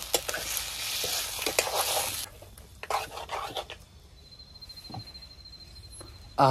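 Pork stirred with tomato paste in a hot pan, a steady scraping sizzle broken by a few spoon scrapes and clatters, then quieter stirring with a sharp burst at the end.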